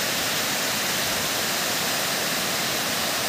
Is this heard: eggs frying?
no